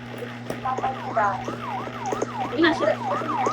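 An ambulance siren wails in a repeating up-and-down sweep, steady and fairly loud, over a constant low engine hum on a street, with scattered voices underneath.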